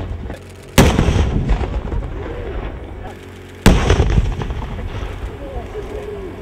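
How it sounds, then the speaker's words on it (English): C2 sheet explosive detonating on a desk during a K9 and explosives training demonstration, two sharp loud blasts a few seconds apart, each with a rumbling tail. "C2 sheet explosive will do to this desk"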